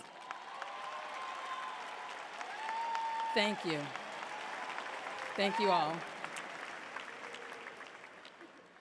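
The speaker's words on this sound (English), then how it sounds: "please stand so we can give you a round of applause" At a 2019 Alief Taylor high school graduation, the audience applauds standing faculty in a sustained, steady wash of clapping. A voice speaks briefly over it.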